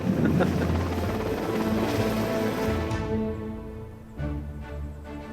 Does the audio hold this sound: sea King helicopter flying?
yes